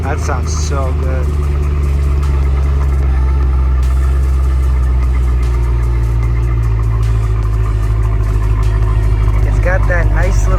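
A 2005 Mercedes CL55 AMG V8 idles with a steady low burble, loud and close, a constant throaty rumble from the exhaust with faint voices briefly at start and end.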